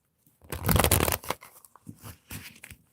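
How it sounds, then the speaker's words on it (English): Cards are shuffled vigorously in one loud, dense burst, followed by several softer riffles and taps, close up with no talking. "So we're going to pull the cards again. And I'm going to give them a really good shuffle."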